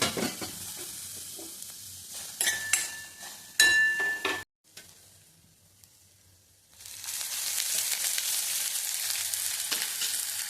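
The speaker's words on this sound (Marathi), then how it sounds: "कढई गरम करायला ठेवली आणि त्यामध्ये कांदा टाकून घेऊया." Onion fries in a hot wok, first with sharp stirring scrapes and clinks over a sizzle, then a brief near-silent pause, then a loud, even hiss of frying that runs to the end.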